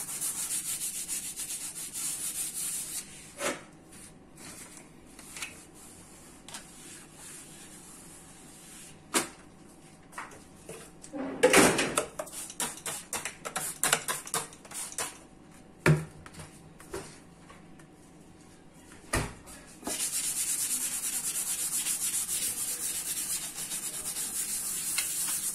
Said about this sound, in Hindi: आप सिर्फ स्प्रे करें और स्क्रॉच ब्राइट से इसको क्लीन करें। जहां थोड़ा जिद्दी है वहां आपको थोड़ा रब करना पड़ेगा